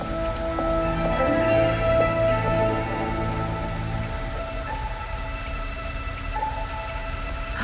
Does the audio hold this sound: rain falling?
no